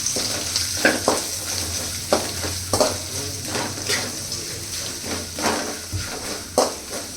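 Onions fry in a pan for South Indian pepper chicken, a continuous close sizzle with repeated scraping stirs of a spatula against the metal every second or so.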